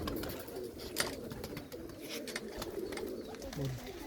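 A female Sialkoti pigeon coos in low, repeated throaty calls at a breeder's pigeon loft, steady and fairly close over a busy background hum, with no talking.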